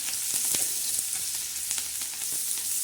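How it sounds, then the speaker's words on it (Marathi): Chopped onion sautés in a pan with a steady, close frying hiss, broken by a few soft stirring scrapes. "छान असा कांदा परतायचा"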